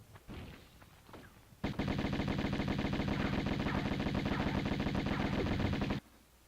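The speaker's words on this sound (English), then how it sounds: "Uzis really are overpowered in this game" Dual Uzis fire in Tomb Raider in one continuous rapid-fire burst lasting about four seconds, loud and rattling, after a few scattered footstep-like thumps.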